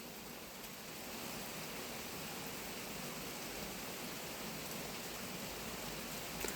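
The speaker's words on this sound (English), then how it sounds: "it's raining a lot" Heavy rain falls outside as an even, dense hiss that holds steady and fills the whole stretch, faint and without voices.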